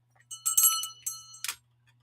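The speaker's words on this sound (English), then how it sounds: "Let me get my bell." A handbell is rung several times in short bright bursts with a sustained metallic ring, close and fairly loud, followed by a brief fading tail.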